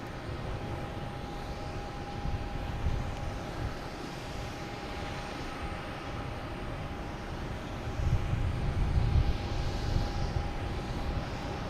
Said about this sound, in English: we also have a American Airlines taking off heading to Indianapolis